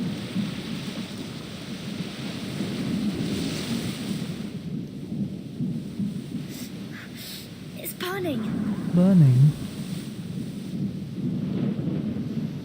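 Thunderstorm rumble with steady rain from the video game Reverse 1999, a low continuous roar that swells and fades, with voices speaking over it partway through.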